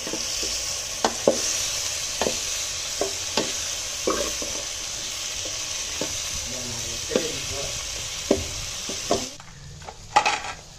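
Onions and tomatoes sautéing in a pan during home cooking, a constant sizzle broken by sharp spoon-against-pan clinks and stirring knocks, then a quieter stretch near the end.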